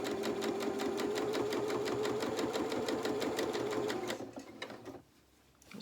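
A sewing machine runs steadily, top stitching fabric with a fast, even mechanical chatter and a constant motor whine. It slows and stops near the end, leaving quiet handling sounds.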